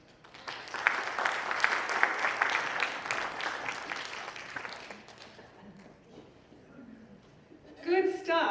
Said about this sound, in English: yes, let's clap again